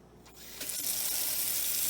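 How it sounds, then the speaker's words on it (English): Water from a pot filler faucet pours into a canning pot for beef broth, a steady broadband rush that swells louder partway through and then holds, with no talk. "Gotta get my pot filler."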